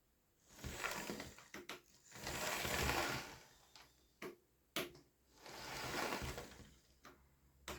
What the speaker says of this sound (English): the motor and the flywheel trying to lug around so much weight